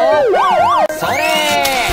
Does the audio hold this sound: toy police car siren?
yes